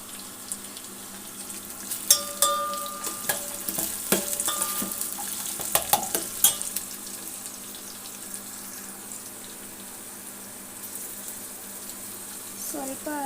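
Vegetables fry in a pan as coarse salt is added, with a steady sizzle beneath a cluster of sharp utensil clicks and scrapes in the middle, then a quieter stretch of even frying.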